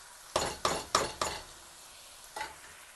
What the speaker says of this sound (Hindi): और इनको हम पकाएंगे जब तक हमारी सब्ज़ियां जो है सॉफ़्ट नहीं हो जाती।